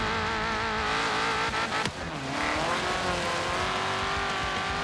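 Car in Forza Horizon 3 driving off-road across the Australian outback, a steady loud engine drone with shifting pitch, one brief sharp knock near the middle, no talking.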